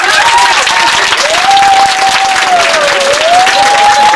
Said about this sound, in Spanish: Vamos, arriba el aplauso.